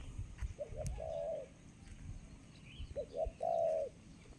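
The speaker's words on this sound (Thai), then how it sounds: "นกกำลังขึ้นเล่นแล้วครับนกป่า" Soft dove-like cooing calls from wild birds in a mountain forest before rain come in two short bursts, the second louder, over a faint rumbling outdoor background.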